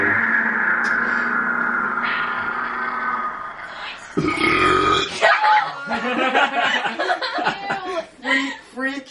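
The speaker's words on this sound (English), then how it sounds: "Burp." A loud, drawn-out burp from a person in the first seconds, followed by laughter and lively chatter among several people.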